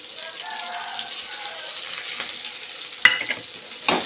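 Sautéed shallots and grated coconut are stirred in a pan for mint chutney, giving a soft continuous sizzle with gentle scraping and a couple of sharper utensil knocks near the end, close by and without talk.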